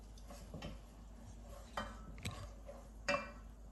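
Flour gently stirred into melted butter for bechamel in a pan, a utensil scraping and ticking against the pan in soft, irregular strokes with a few brighter clinks, quiet and close with no talking.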